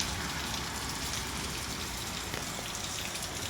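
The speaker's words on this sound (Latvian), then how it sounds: "Mums lija visu naktī un turpina līt." Steady overnight rain keeps falling, a dense, even hiss of drops hitting surfaces with no pauses, at moderate volume and with no voices over it.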